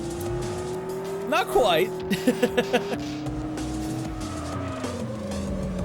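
Tire squeal from a Toyota Supra skidding in the video game Driftline Peaks, a rising engine drone under brief chattering skid bursts, with a player speaking over it.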